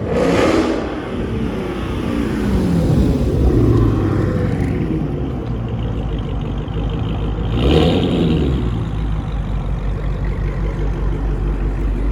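A modified 2015 Dodge Challenger Scat Pack revs close by in about three sharp blips, each engine note sweeping up and falling back between throttle pulls, with no talking.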